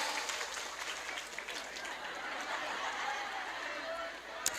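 A crowd at an Islamic religious gathering (pengajian) applauds, a faint, distant wash of clapping mixed with chatter and some laughter, steady across the whole stretch.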